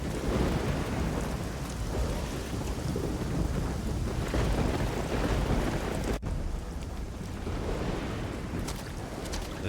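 Thunderstorm in the Risen 2: Dark Waters video game: heavy rain pours steadily with deep rolling thunder underneath, loud and continuous, and a sharp crack about two-thirds of the way through.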